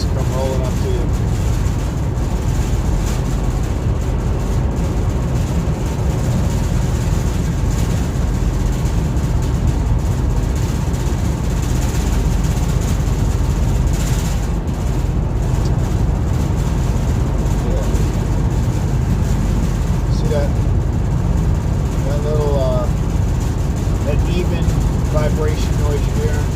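A car at about 70 to 75 mph fills the cabin with a steady, dense rumble of road and vibration noise, constant throughout, while a voice occasionally speaks faintly underneath.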